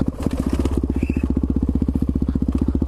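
Supermoto motorcycle engine idling or running low near a ten-stair set, a loud close rapid-fire thumping pulse with a steady rhythm.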